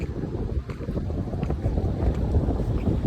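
Strong wind blowing across an open, treeless riverside area, a loud continuous rumbling roar buffeting the microphone for the whole stretch, with no talking.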